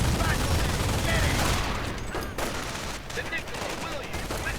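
MG42 machine gun fire rattles in a video game battle, with dense, continuous bursts and explosions merging into a loud, unbroken roar of gunfire.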